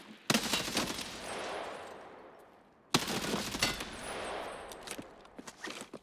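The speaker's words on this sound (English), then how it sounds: "I think I'm getting sniped at." Distant sniper gunshots in the single-player Tarkov shooter game, two sharp cracks each followed by a long rolling echo that fades out, with faint small clicks near the end.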